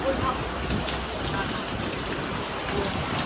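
Steady rain falls around midnight, a dense, even hiss of drops running through the whole stretch, with a voice speaking faintly over it.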